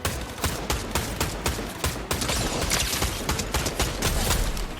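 Gunfire in a video game comes as a rapid series of loud, sharp shots, a close, steady fusillade.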